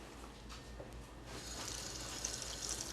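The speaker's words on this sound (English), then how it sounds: "you just need to put a little bit of water in here." Water pours into oatmeal in a gentle, steady trickle that grows slightly stronger after a moment, close by with no talking.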